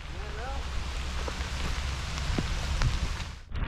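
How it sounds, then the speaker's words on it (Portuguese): Heavy rain pours steadily onto a river during a fishing trip, a dense continuous hiss with a few faint knocks and a brief whistle-like tone early on. "A chuva não para e tava pegando, rapaz."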